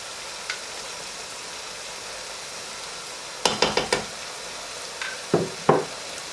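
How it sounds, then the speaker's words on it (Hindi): Chicken with yogurt stir-fried in a pan on high flame: a steady low sizzle with a few sharp clatters of a spoon against the pan in quick bursts, close up and without talk. "तो इसको मैं यहाँ पर अच्छी तरह भूनने लगी हूँ"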